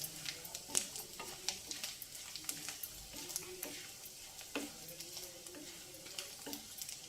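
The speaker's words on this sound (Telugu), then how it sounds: "కొంచెం ఎర్రగా వేగాలండి ఇది" Okra pieces frying in oil in a pan give a steady, moderate sizzle, broken up by repeated scraping and clinking of a spatula stirring them. No one speaks.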